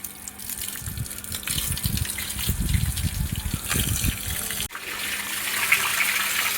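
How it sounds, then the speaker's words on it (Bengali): A water pump motor fills a makeshift pool beside an outdoor tap, giving a steady gushing, splashing flow with low churning pulses, close and continuous, then a sudden shift to a thinner, hissing stream. "এবার হলো মোটরটা চালাতে বলছি, এখন মোটর চালাবে।"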